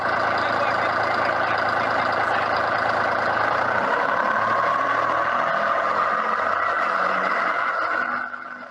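A rotary diesel engine runs steadily with a droning, warbling tone like a warbird's radial engine, loud and continuous before tapering off at the very end.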